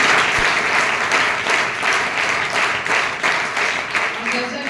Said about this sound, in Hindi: तो एक बार जोरदार तालियां बनती हैं।